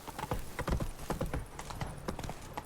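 Hooves of Roach, the horse in the video game The Witcher 3, clip-clop in a quick, steady rhythm, close and fairly loud, with no talk over them.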